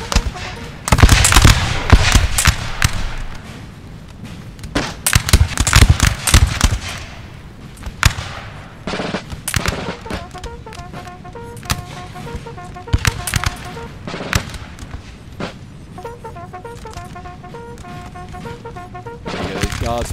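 Massed musket volleys from guard infantry in a Napoleon Total War multiplayer battle, dense crackling bursts of gunfire rolling in waves, loud at first then thinning to scattered shots, with someone talking over the firing.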